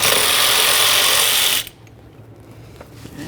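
Ratchet loosening the central 8mm mounting bolt on the engine cover of a 1999-2006 Chevrolet Silverado 1500 with a 5.3L V8, a close, loud rapid clicking burst that stops abruptly, followed by faint handling noises.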